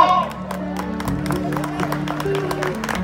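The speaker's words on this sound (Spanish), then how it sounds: "échenle fuerte aplauso" Crowd applause and cheering at a bull riding tournament at an outdoor arena, a steady wash of clapping and whoops with a voice talking over it and music-like tones in the mix.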